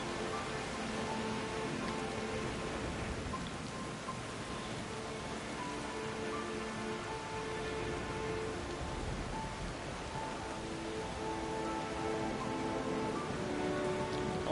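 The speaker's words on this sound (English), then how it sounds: "Rain is showing no sign of subsiding." Steady rain pours in the video game Pillars of Eternity 2, a dense continuous hiss of drops drumming on a ship's deck at sea, with a faint musical drone underneath and no voices.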